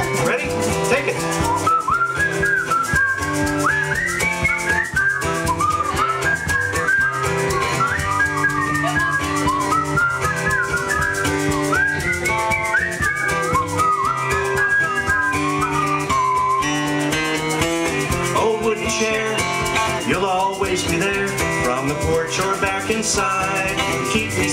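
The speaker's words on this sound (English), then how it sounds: "It's a whistle break." A melody is whistled over the instrumental accompaniment of the folk song "Old Wooden Chair" during its whistle break, with wavering, sliding notes carried steadily above guitar and band for the full stretch.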